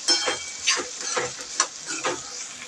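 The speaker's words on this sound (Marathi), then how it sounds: "आता मिक्स करून घ्यायचं." Spices stirred with turmeric and salt in a pan, giving soft repeated scraping strokes over a steady frying hiss, close and fairly quiet.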